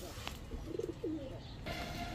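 Colored pigeons coo softly in a short, low murmuring call with a brief second coo, close by over a steady background hum.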